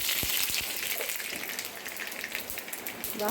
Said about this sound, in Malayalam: ചൂടായി കിടക്കുന്നുണ്ട് ചീനച്ചട്ടി ഇതിലേക്ക് നമ്മൾ വെളിച്ചെണ്ണ വയ്ക്കാം